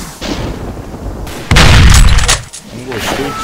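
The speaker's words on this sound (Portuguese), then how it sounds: "Agora vai ficar dando tiro pra caralho" Heavy gunfire and explosive blasts from a Doom remake on PC, a dense loud burst of shots in the middle over a noisy game background, with voices briefly audible.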